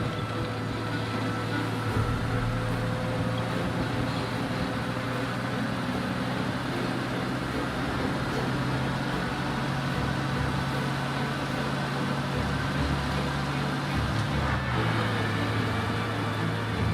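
A car races away from police in Mafia Remastered with a steady, low engine drone that runs throughout at moderate loudness. No speech is heard.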